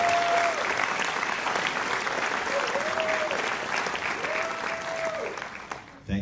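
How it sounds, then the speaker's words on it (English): An audience at a percussion concert applauds steadily, a dense wash of clapping that holds for several seconds before thinning and stopping, with faint voices and a few whistles riding over it. "Another round of applause for them."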